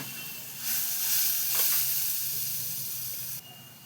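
A fish filling bound with mashed potato fries in a pan, and a loud hissing sizzle bursts up suddenly, holds steady with a brief stirring rustle, then drops away after about three seconds.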